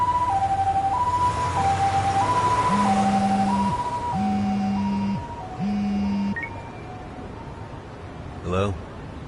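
An ambulance siren wails in a steady two-tone pattern, loud and near, with a deeper horn blaring in bursts, then fades out as a short tone sounds.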